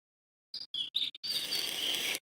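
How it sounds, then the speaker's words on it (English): Birds chirp within a played song: a few quick, bright chirps come first, then a dense, continuous wash of twittering holds for under two seconds before cutting off. "It sounds like a lot of birds chirping."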